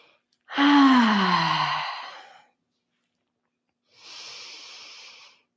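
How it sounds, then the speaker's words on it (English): A person draws one long, deep audible inhale followed by a pause and a softer, breathy exhale, a slow belly breath close to the microphone in a quiet room during a yoga session. "Big old belly breaths"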